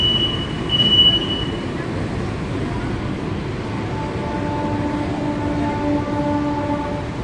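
Chennai's first AC local train running from Beach to Tambaram, heard from inside: a loud continuous rumble of wheels on rails with a faint high squeal early on and steady tonal hums, no talk.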